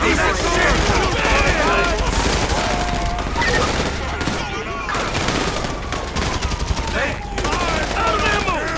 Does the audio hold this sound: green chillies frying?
no